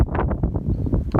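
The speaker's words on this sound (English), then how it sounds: "It is very windy." Gusty wind on a windy Appalachian Trail stretch near White Top Mountain buffets the microphone in loud, close, rumbling pulses over a brief moment.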